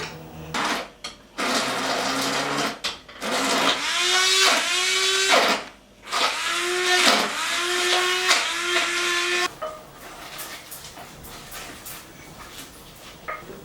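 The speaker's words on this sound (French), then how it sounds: "Alors en alternance, je vais ajouter le lait, un petit peu de lait. Je vais la mixer." A blender whirs in loud bursts as brandade de morue, a salt cod purée, is blended with splashes of milk, the motor pitch rising and dropping through several pulses before cutting out into quiet.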